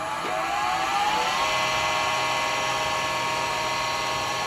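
A wood lathe spins up for hollowing a hard end-grain pot, giving a steady, loud high whir with rising tonal harmonics that hold constant for several seconds with no talk.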